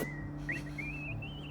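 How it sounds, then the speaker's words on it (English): A person whistles a wandering, sliding tune, clear and fairly close, over a steady low hum in the background, with no talking. "Whistling."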